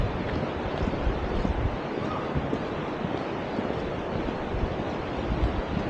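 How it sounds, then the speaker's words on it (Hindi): Waterfall in Urgam Valley, Himachal, a steady broadband rush of falling water heard from a distance, constant and unbroken throughout. "ब्यूटीफुल वाटरफॉल देखिए वहाँ पे ऊपर"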